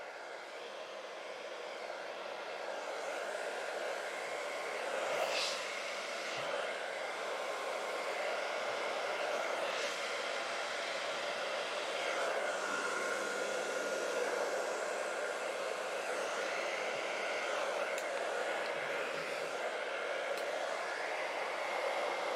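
A blow dryer set to cold runs steadily over an alcohol ink painting on a 36x48 canvas, a continuous close whooshing hiss that swells slightly after the first few seconds and holds without pause.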